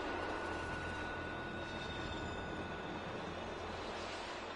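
A train in the video game Destiny 2 rolls past, a loud, continuous rumbling roar with a faint high whine, steady and close throughout.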